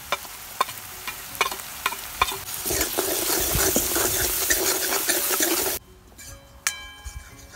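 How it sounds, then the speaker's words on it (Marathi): Chopped onion sautéing in a pan with turmeric and salt for kulith pithale sizzles in a loud, continuous hiss. A spoon clinks and scrapes against the metal at intervals, and the sizzle drops away abruptly near the end. "कांदा छान परतला गेलाय"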